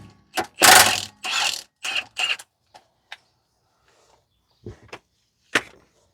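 A ratchet wrench with a 19 mm socket loosens the rear shock nut on a 2015 Toyota Sienna, rapid clicking ratchet bursts followed by a few isolated clicks and clinks, close and clear.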